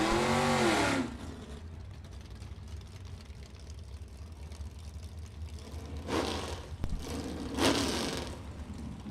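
Drag race launch with a Vega wagon against a 1968 Mustang: a loud engine roar at the start settles into a steady low rumble, then two more bursts of revving swell up near the end.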